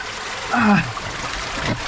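Cold creek water during a crossing on the way into a cave, a brief close splash and gurgle as someone wades in, then softer trickling and sloshing.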